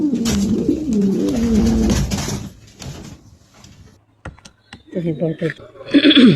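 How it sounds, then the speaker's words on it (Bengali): A female silver Lahore pigeon gives close, fairly loud throaty coos at the start. Quieter stretches follow, then scattered clicks and clattering knocks, with more bursts of cooing near the end. "এটা হলো সিলভার লাহোরের একটা মাদি, কোনো মিসমার্ক নাই, ফ্রেশ, সুস্থ সবল, খুবই ভালো একটা মাদি কবুতর"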